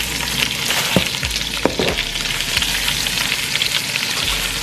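Shredded cabbage fries in melted butter in a pan, making a steady, close crackling sizzle with a few soft stirring clinks and no voices.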